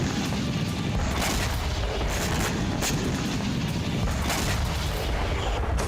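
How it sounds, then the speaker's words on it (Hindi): Heavy continuous rumbling and booming from a Russian bombardment in Ukraine, a dense, loud wall of low explosive noise with no clear pauses, heard without any talk. "रूस लगातार विस्फोट कर रहा है।"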